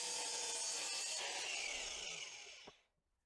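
A saw cuts through a wooden weather bar at a 3 degree angle, a bright continuous rasping that runs steadily, then tapers off and stops with a small knock at the end.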